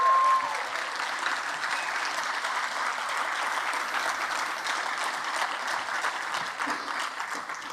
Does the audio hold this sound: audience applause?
yes